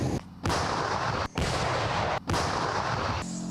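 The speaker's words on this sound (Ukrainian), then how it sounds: "чуєте, як гуркоче фронт? Ви бачите, наші танки висуваються в бік нашого Донецька." Heavy booming blasts of tank cannon fire on the front near Donetsk, Ukraine, roar close and loud, three large bursts separated by brief gaps, rumbling continuously.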